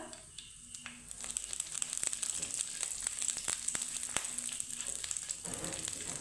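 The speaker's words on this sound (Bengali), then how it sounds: "দিয়ে দিব কারি পাতা কিছুটা" Curry leaves and black mustard seeds fry in hot oil for a tempering, a faint crackling sizzle with rapid sharp pops spattering throughout, alone without voices.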